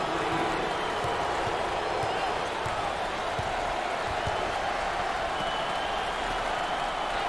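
A college basketball crowd at a Wyoming versus Oklahoma State NIT game applauds a long-range shot, a dense, steady wash of clapping and cheering filling the arena for several seconds.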